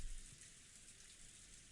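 Steady rain from a typhoon pours outside in the game Umineko When They Cry, a soft, even hiss with no voices over it.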